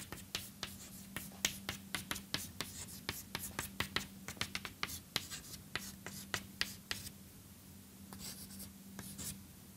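Pen or chalk writing out a condition by hand during a lecture: a rapid series of sharp scratchy strokes in irregular bursts, close and clear, pausing briefly before a few final strokes.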